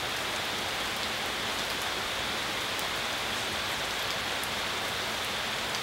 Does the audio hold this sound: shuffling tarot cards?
no